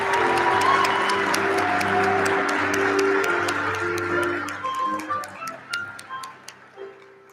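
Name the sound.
applause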